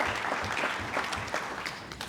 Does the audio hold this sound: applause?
yes